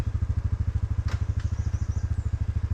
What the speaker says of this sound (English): Put the bike in reverse.